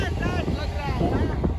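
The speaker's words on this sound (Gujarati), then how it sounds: "પવન બહુ છે, ઠંડીનો માહોલ બહુ છે" Strong wind buffets the microphone on the open deck of a Ro Ro ferry crossing from Ghogha to Hazira, a steady roaring rumble with the boat's drone beneath it.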